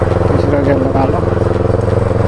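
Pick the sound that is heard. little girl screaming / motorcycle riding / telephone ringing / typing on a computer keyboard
motorcycle riding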